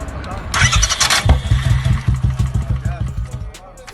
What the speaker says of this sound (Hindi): इस तरीके से वो बाइक को स्टार्ट कर लेता है।